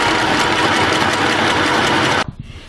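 A sewing machine runs fast and steadily, stitching forwards and backwards to lock the seam of a nurse's scrub top, loud and close for about two seconds before stopping abruptly.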